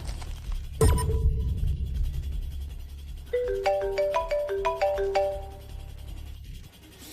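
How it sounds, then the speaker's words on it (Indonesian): A telephone rings in a domestic drama scene, a repeated bright electronic melodic ringtone pattern that starts after a sharp thud and low rumble, fairly close and clear with no talk over it. "Mas Budi, ada telepon."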